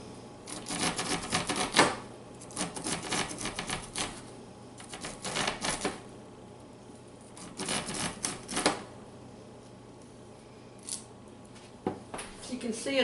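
A knife scraping kernels and milk off a fresh corn cob in repeated bursts of rapid rasping strokes with short pauses between them, close and fairly crisp, with a person talking between passes.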